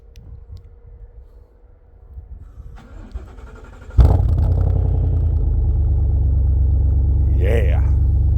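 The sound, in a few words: truck engine cold start and revving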